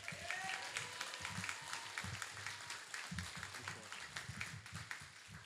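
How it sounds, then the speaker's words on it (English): Audience at a poetry contest applauding the poets on stage, quiet distant clapping from a crowd blended with low rumbling room noise and faint thumps, continuous for several seconds. "Can I get a big round of applause for everyone up on stage?"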